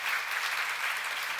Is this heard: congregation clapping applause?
yes